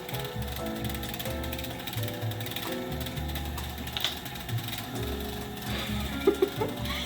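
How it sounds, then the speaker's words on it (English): Kitchen stand mixer straining against thick cookie dough, a continuous grinding, ratcheting mechanical churn with uneven labored pulses throughout, close and fairly loud, with a few sharper knocks near the end. "Mixer's having a little bit of difficulty."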